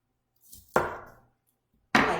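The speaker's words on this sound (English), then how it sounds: "So I'm going to cut that in small pieces." A knife cuts asparagus into small pieces on a board, giving three short, crisp chops spaced unevenly, each with a brief fading scrape, close and clear with no talk.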